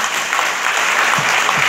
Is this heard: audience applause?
yes